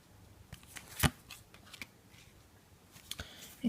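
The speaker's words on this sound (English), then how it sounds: "let's give the cards a shuffle" Someone shuffles tarot cards by hand, making close, crisp riffling rustles with sharp flicks and soft slaps in short irregular bursts in a quiet room.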